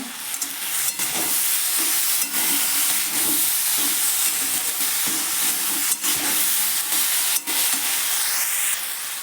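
Mixed vegetables with turmeric powder and grated ginger frying in a pan, a steady, loud close sizzle and hiss with faint stirring scrapes throughout.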